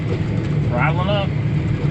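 A farm tractor spreading oats runs loud and close with a steady, rough engine drone, and a voice briefly rises over it.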